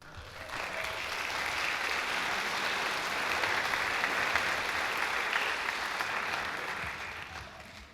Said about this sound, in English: Let's give Brian a nice round of applause as he sings,